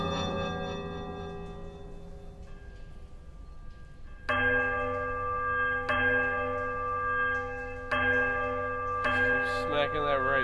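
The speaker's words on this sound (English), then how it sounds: "Smacking that right bell." Large bells are struck in the Pillars of Eternity game, several loud ringing tones sounding in sequence, each sustaining and overlapping the last as one bell after another is hit.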